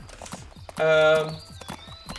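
Horse hooves clip-clopping in the Adventures with Horses video game, a rhythmic run of light thuds with a loud whinny-like burst in the middle, while a person talks over it.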